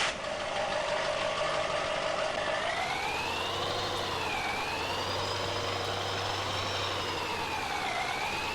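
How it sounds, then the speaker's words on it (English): A 2020 GMC 3500 Duramax pickup truck in Farming Simulator 19: a steady low engine drone sits under a loud, continuous siren-like wail that rises and falls, with no talking. "The brand new GMC 3500 Duramax 2020."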